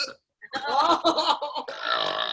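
A girl lets out a loud, drawn-out burp during a burp contest, one long croaking belch after a short gulp, close and alone.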